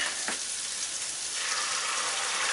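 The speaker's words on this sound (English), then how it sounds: "As you see, it soon evaporates and it starts to fry again" Lamb chop curry sizzles and fries steadily in a pan as the added liquid cooks off. The crackle is close, even and continuous, with no voices.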